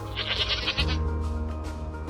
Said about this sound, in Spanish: se oían balidos y más allá, en el otro extremo del recinto, había unas cuantas cabras.